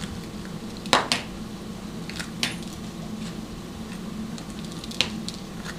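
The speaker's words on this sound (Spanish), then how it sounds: "Yo voy a cortarlos a la mitad y les voy a sacar todo lo que es la semilla." A spoon scoops seeds out of halved peppers, producing faint scraping and soft squishing with a few sharp clinks of metal against a tray, close and quiet over a steady background hiss.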